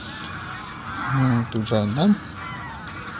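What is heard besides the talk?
flock of greylag geese honking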